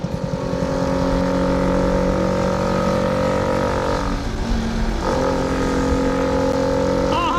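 Honda Super Cub motorcycles riding off, a steady loud small-engine drone close by with shifting pitch as they pull away, the note rising and falling through gear changes.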